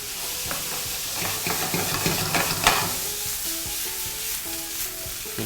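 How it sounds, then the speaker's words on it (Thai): Beef and onion stir-frying in a pan, browning at the edges, with a steady close sizzle and a few scraping stirs, then a softer hiss. "เนี่ยเราจะผัดให้เนื้อเกรียมนิดนึง"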